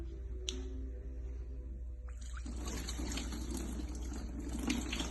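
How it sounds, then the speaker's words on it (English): Water is poured over a car brake to neutralize spilled brake fluid, a quiet trickle that swells into a steadier splashing pour after a couple of seconds, close and fairly faint. "I like to just clean it up with a bit of water, pour it on here to neutralize the fluid."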